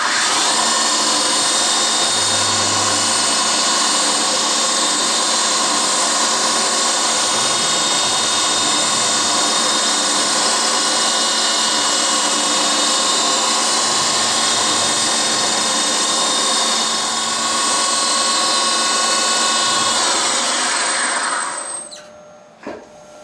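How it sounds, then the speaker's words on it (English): A milling machine running a 2mm carbide ball end mill profiles a radius on a small M1911 mainspring housing, a loud, steady high whine with a constant tonal drone that holds evenly for about twenty seconds, then cuts out. "But for now we're going to machine the radius on it."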